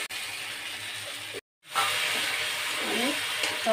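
Tomato sauce hits frying spice masala in a pan, setting off a steady loud hissing sizzle that cuts out briefly then resumes strong and continuous, close up.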